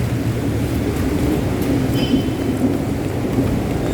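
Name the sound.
heavy rain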